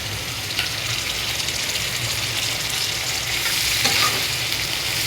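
Chopped onion fries in hot oil with bay leaf, cardamom, clove and cinnamon, making a continuous, close sizzle with faint stirring scrapes throughout and no speech.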